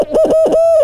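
A voice imitates an owl hoot as a turkey-hunting locator call, a loud, close, wavering run of hooting notes ending in a sustained tone, crudely done.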